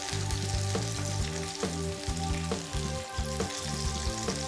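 Tofu coated in potato starch and rice flour frying in oil until golden for salt and pepper tofu, a steady dense sizzle under a loud, steady tonal music bed.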